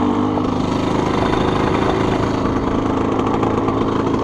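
A Suzuki RM125 two-stroke dirt bike engine idles high and steady at close range, a continuous buzzing drone with no talk over it.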